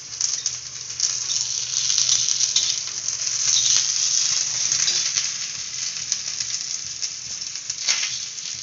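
Whole spices sizzle and crackle steadily in hot oil in a pan with onion and coriander, a bright continuous frying hiss with small pops, close and fairly loud, no talking.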